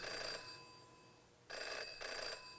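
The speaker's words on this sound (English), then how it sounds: "The phone is ringing. Who could it be? It's a rotary phone, too." A rotary telephone rings in the video game Jenny LeClue, with a loud bright bell trill in three bursts separated by short pauses, heard alone without speech.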